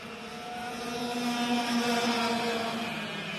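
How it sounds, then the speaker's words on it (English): A racing kart engine at Sonoma passes on the track, a steady buzzing whine that swells as it draws closer and then eases off, with no voices over it. "So here comes Dan Jones with the race win"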